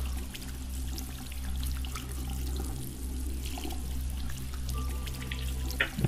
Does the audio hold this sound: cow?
no